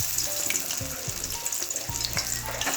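Greens pakoda batter frying in hot oil in a wok, a steady close sizzle with soft bubbling crackle throughout, no voices.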